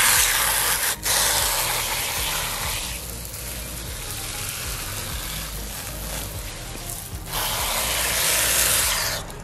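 A water hose rinses conditioner out of a horse's coat with a steady close hiss of spraying water, briefly interrupted a few times as the stream shifts.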